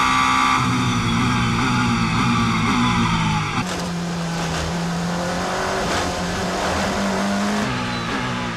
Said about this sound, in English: GTE Am battle being passed by the Porsche and Toyota battle for 4th place.